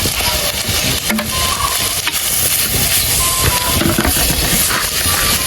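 Masala paste and sardines stirred in a pot outdoors over the fire, a spoon scraping and knocking irregularly against the metal amid a loud continuous hiss of sizzling and steam.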